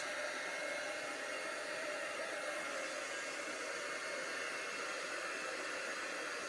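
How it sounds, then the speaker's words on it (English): A heat embossing tool blows steadily over glossy white cardstock, a constant hair-dryer-like roar that stays even and close throughout, with no voices. "let's see how this heat embossing works"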